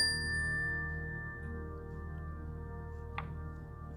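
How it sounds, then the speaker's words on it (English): A mindfulness bell strikes once and rings out, its clear sustained tone slowly fading into quiet, with a faint light tick near the end. "I'm going to ring the bell, and when you can no longer hear the sound of the bell,"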